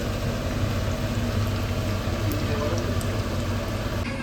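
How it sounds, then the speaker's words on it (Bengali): Whole pieces frying in a nonstick pan give a steady, close, dense sizzle and crackle that holds evenly throughout, with no voices. "এইভাবে সব কটাকে ভেজে নেবে, ননস্টিকে নিয়ে নিয়েছিল ওই জন্য ভাজাটাও সুন্দর হবে"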